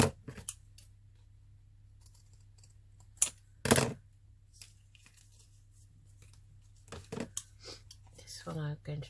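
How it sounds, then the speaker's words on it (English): Scissors snip through paper scraps for a craft board in a few sharp, close cuts separated by quiet gaps, with faint rustling and a voice speaking toward the end. "One I'm going to trim off that edge"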